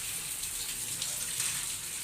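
Rain falls outside a room in Prayagraj during a power cut, a faint, even hiss of water with no voices.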